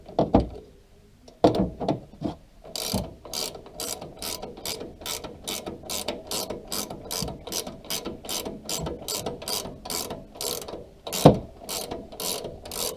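A hand ratchet tightens a nylon lock nut on a Toyota 4Runner shock absorber, giving a few slow clicks and then a long run of quick, evenly spaced pawl clicks, close and clear with no talk.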